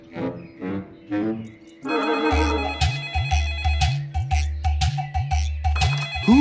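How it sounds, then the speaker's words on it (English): A telephone rings in an animated cartoon on a sunny morning balcony, a series of bright repeated electronic rings sounding loud and close after a short burst of music, each ring pulsing in a steady rhythm. "his phone rang"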